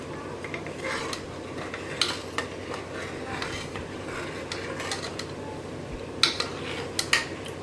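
A spoon scrapes and stirs steadily around a pot of pearl millet porridge, with soft clinks against the metal and a faint bubbling beneath.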